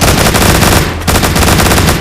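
Rapid gunfire bursts from the Walking Zombie video game, loud and dense, nearly continuous automatic fire with a brief gap near the middle, no voices.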